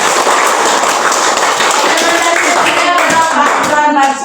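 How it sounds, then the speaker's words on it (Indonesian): A group of scout students at an elementary school training claps for two classmates, a loud, dense burst of hand claps up close that holds steady and then tapers off. "tepuk tangan untuk mereka berdua"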